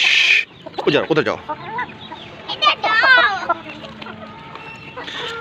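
Chickens cluck in a series of short, close calls while pecking at roti, with someone speaking briefly over them and faint rustling between the calls.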